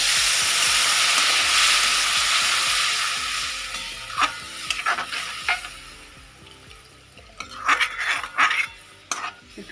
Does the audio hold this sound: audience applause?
no